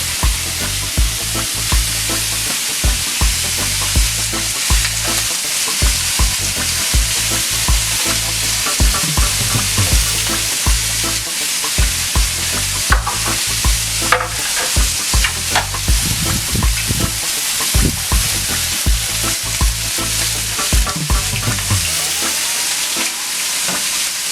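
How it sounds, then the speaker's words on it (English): Sweet potato fries crackle and sizzle steadily in hot grease on a stove, a loud, dense frying hiss with scattered pops throughout, with no one talking. "So our grease is nice and hot for our sweet potato fries. So we're going to go ahead and throw those on the stove."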